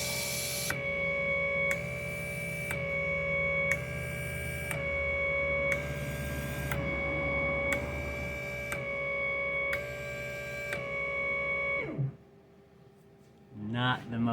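Optimax outboard air injectors on a flow-testing bench, pulsing in a regular on-off rhythm of about one burst per second with a tonal buzz, roughly eight pulses before they stop abruptly, followed by brief clatter.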